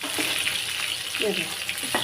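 Pieces of rohu fish frying in oil in a pan, a continuous close sizzle and crackle with faint scraping, steady and fairly quiet.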